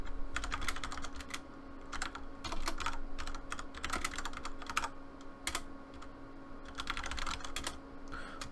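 Clicky computer keyboard typing in short bursts separated by brief pauses, a username and password being entered, close and fairly quiet over a steady low hum.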